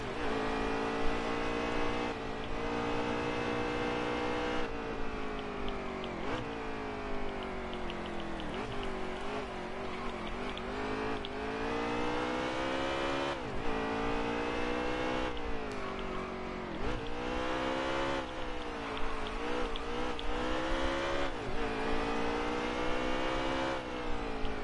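Race cars from a NASCAR Cup racing video game at Sonoma roar in a long line, engines droning and shifting pitch steadily throughout with dense, continuous revving and no pauses.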